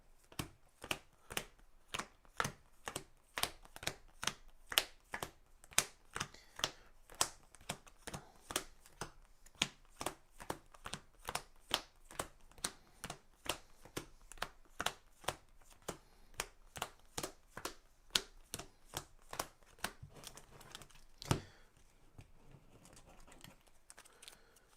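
A deck of cards from a board game is riffle-shuffled over and over, a long series of sharp, crisp flutters and snaps in steady rhythm, close and alone, ending with a softer shuffle.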